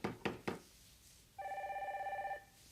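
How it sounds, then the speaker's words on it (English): Three sharp knocks at a door are followed by a telephone bell ringing in a steady, rapid trill for about a second, heard in a quiet indoor setting from a 1994 television drama. "I'll get the phone."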